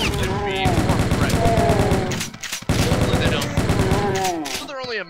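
Sustained chaingun fire in the Doom WAD Eviternity, a loud rattling stream of rapid shots with a short pause midway and a tail of other game noise at the end.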